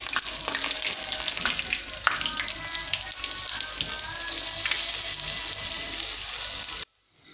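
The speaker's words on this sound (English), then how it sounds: "Fry the tempeh in medium heat." Tempeh fries in a pan over medium heat with a steady, close, bright sizzle and crackle that runs without pause until it cuts off at the end.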